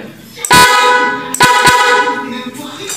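A motorcycle snail horn, rewired from a 22-tone horn, blares in two loud honks: a long blast, a short pause, then a second longer blast with a quick stutter, ringing out close and alone.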